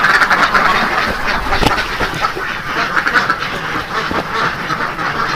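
A crowd of ducks on a duck farm quacks continuously and loudly at close range, with many overlapping calls forming a dense, noisy chorus.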